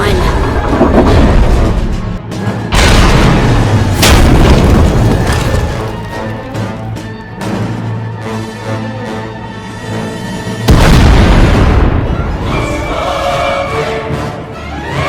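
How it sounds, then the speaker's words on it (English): Explosions in the Star Wars: The Old Republic video game as a tunnel collapses, with heavy booming blasts and rumbling debris at about 2, 4 and 11 seconds over a continuous low roar and game score. "We heard explosions, the tunnel collapsed."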